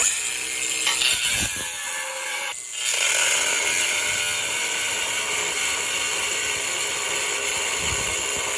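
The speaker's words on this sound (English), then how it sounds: "So everybody knows, sawzall blades do this when they're cutting." Milwaukee Sawzall reciprocating saw cutting the wings off a steel Barricade HD bumper on a Jeep JL, a continuous loud rasping buzz with a brief dip near the start, no talking.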